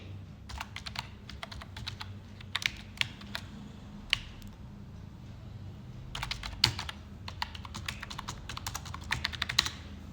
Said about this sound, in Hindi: यूजर नेम और पासवर्ड लिख के लॉगिन करेंगे।